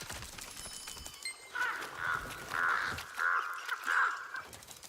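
A bird in the Lost Ark video game caws about five times in a steady series of harsh, moderately loud calls over quiet background sound, with no talking.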